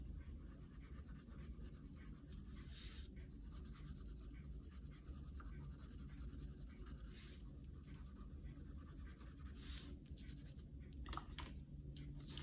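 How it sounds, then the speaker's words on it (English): A pencil shades on paper with faint, soft scratchy strokes in short bursts, close but quiet over a steady low background hum, for an elementary art drawing of a gingerbread house. "I'm gonna add a little bit of shading with my pencil under and off to the right"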